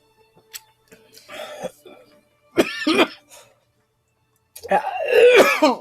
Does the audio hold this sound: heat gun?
no